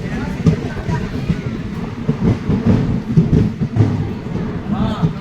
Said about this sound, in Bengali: বিকেল প্রায় 5টার সময় আমাদের ট্রেন দলগাঁও স্টেশন ঢুকছে।